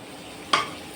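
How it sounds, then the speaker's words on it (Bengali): Two large onions, chopped, hit hot oil in a pan for a potato and chicken curry: one sudden close sizzle that bursts out after a quiet moment and then keeps hissing, with no talking. "তেলটা গরম হয়ে গেছে। এরপর দিয়ে দিচ্ছি পেঁয়াজ কুচি।"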